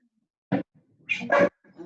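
Dogs let out a short bark followed by higher whimpering yips, close and brief, with quiet gaps between the bursts and no talking.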